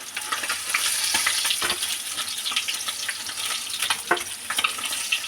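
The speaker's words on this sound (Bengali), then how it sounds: "মাছ বসিয়ে দিয়েছি ভাজার জন্যে, মাছটা ভেজে নেব।" Rohu fish frying in oil gives a continuous dense sizzle and crackle at close range, with a few sharp spatter bursts and stirring knocks.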